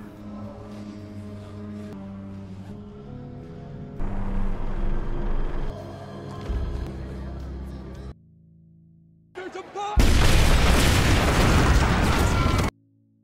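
A loud, roaring blast of noise bursts out after a brief lull, following a stretch of dense, rumbling sound.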